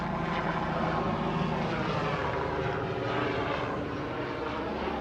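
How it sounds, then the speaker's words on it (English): A medical helicopter flies overhead, its rotor and engine making a loud, continuous broadband roar that stays steady throughout, with no voices. "It's a medical helicopter."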